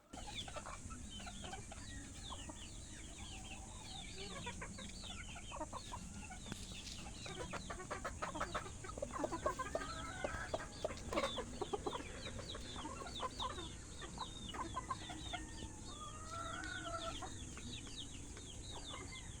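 Chickens cluck steadily, cockerels and brood hens of a game farm together, with overlapping calls near and far and a busy flock chatter that swells in the middle.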